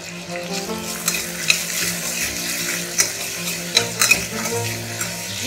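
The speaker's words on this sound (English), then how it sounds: "We'll cook the onions until they are soft." Onions, green chilies, garlic and ginger fry in a pan for an aloo dish, giving a continuous close sizzle with scattered stirring clicks and scrapes.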